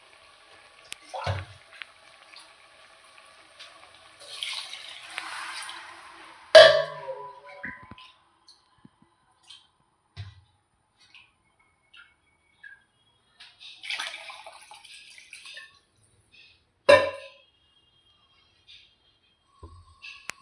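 Water poured onto soaked rice in a pot for mushroom biryani, heard as a few short, faint splashing bursts separated by quiet stretches and small clinks.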